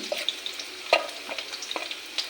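Onions frying in a pan for a duck egg, cauliflower, pea and potato dish, a steady sizzle broken by sharp scraping stirs of a spoon, close and fairly loud, with no talking.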